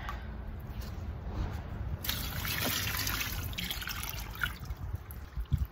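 Concrete mix stirred with water using an old rusty tool, a wet sloshing and squishing that rises midway, close up and steady, ending in a few soft knocks, with no talking.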